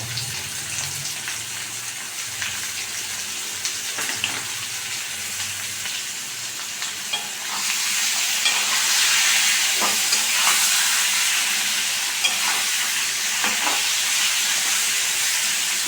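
Potatoes sizzling in a pan with salt and turmeric, a steady close frying hiss that grows louder and brighter about halfway through, with occasional soft clicks of stirring and no talking.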